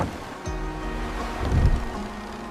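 Ocean waves washing around a sailing ship crossing the sea, a low steady surge of water and wind that swells midway, with no voices.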